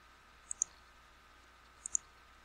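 Two quick pairs of mouse clicks on a gear icon in a software form settings screen, crisp and close, spaced about a second apart against a quiet background.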